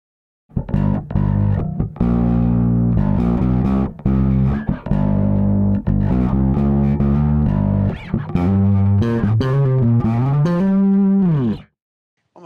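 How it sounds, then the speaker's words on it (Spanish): Electric bass played through a Darkglass Vintage Microtubes overdrive pedal with added distortion, giving a loud, gritty, harmonically rich tone across a continuous run of plucked notes, ending on a sustained note that fades out, with no talking. "Vamos a agregar un poco de distorsión."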